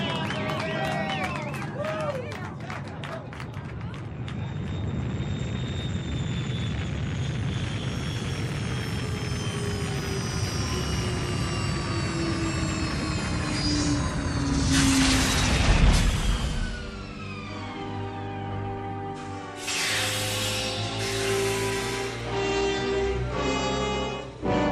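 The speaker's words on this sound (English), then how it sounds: "Those are rocket engines." Roaring rocket engines of a landing spaceship in a radio drama, a broad rumbling roar that swells and surges loudly around the middle before giving way to a sustained whine with music-like tones.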